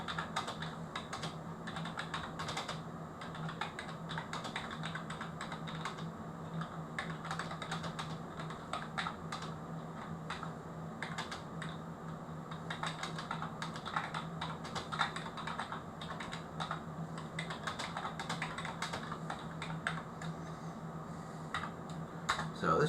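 Steady typing on a computer keyboard, with rapid continuous key clicks close up and no one talking over it.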